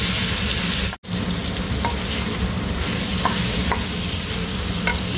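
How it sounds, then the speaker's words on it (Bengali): Potato and ivy gourd frying in spices, loud continuous sizzle with stirring scrapes and a brief drop to near silence early on, no talking. "পুরো সবজি ভালো করে ভাজা হয়ে গেছে"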